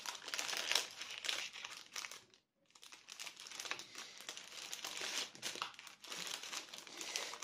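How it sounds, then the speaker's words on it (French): Crinkly plastic packaging for paper-craft supplies is handled and opened close up, a faint, continuous rustling and crumpling that stops briefly for a moment, then resumes, with no talking. "je refermerai après parce que ça fait du bruit, les emballages"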